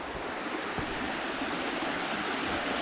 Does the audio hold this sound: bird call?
no